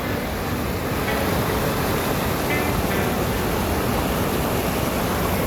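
Released water rushing loudly and continuously, a dense, steady roar close by with no break across the whole span.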